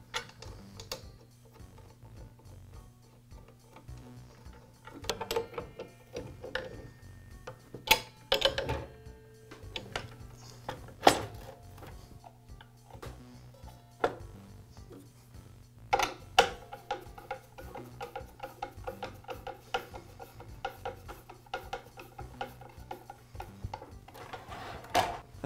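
A DeWALT miter saw has its blade screw reinstalled and its guard lowered and secured: scattered close metallic clicks, ticks and clunks come in short bursts over a faint steady hum, with no talking.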